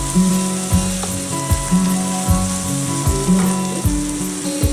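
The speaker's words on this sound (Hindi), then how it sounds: "मैं ये मूंगफली डाल देती हूँ। ये मैंने रोस्टेड मूंगफली डाला है।" Roasted peanuts tipped into a pan of hot oil for vermicelli upma, a loud continuous sizzle broken by regular clinks of a spoon against the pan.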